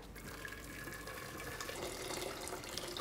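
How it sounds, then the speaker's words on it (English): Boiling water pours and splashes steadily and continuously into a pot, a close, even rush of liquid throughout. "I'm gonna fill this pot with boiling water"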